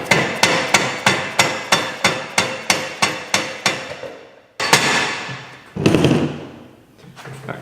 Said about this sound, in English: So I'm gonna actually go ahead and smack the axle out.